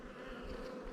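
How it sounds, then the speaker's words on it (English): Honeybees buzz steadily on a beehive frame with hatching brood, a close, continuous drone with no talk. "So there's a bee hatching out there"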